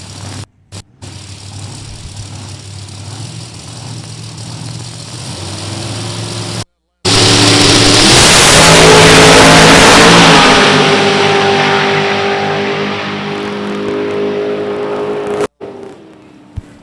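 A race car engine at a racetrack idles low and rough, then revs up loudly and roars for several seconds before easing off, with announcer commentary over it.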